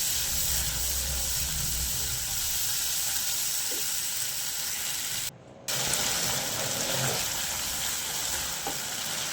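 Ground masala paste fries in oil for a whole tur dal usal, giving a steady, close, hissing sizzle that runs continuously with a brief dropout midway and no voices.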